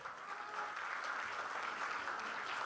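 A theatre audience at a Naples music show applauds the band's conductor, a faint, distant wash of continuous clapping that stays even throughout.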